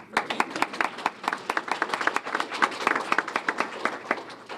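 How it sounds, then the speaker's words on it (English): A small audience at a school awards event claps for a student, with dense, uneven hand claps that stay steady and fairly close for several seconds, and no voices over them. "let's clap for Camden"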